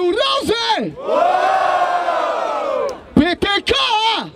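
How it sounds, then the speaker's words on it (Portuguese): A rap battle crowd at Batalha da Aldeia in Barueri roars in one loud sustained cheer of massed voices, with shouted calls and whoops just before and after it. "escolham um só e façam muito barulho"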